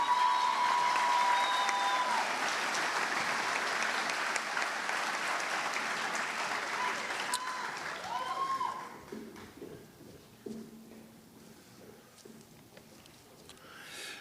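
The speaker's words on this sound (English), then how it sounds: "All right, one more round of applause for these guys." A crowd at a high school senior awards ceremony applauds the award recipients, steady clapping that fades after about nine seconds into scattered claps and low murmuring voices.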